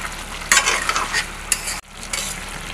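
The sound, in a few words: meat being stir-fried in a pan for Bengali mutton curry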